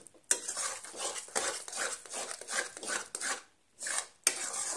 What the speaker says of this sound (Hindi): और फिर से हम अब इसे मिक्स कर देंगे।